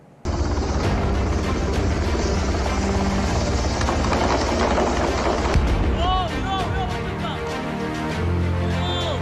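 A military helicopter evacuating wounded Israeli soldiers in southern Lebanon near Taibeh thunders loud and continuous, with sharp bangs and voices mixed in toward the end.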